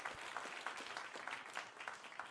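Faint, distant applause from a pageant audience honoring the first Mrs. Earth USA at the 2019 Elite Miss Earth USA Pageant, a short burst of scattered claps.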